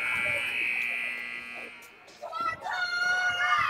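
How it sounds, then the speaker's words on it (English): A steady electronic buzzer tone at a 14U youth hockey game holds for about two seconds, then cuts off as arena noise, cheers and chatter rise. "Buzzer rings."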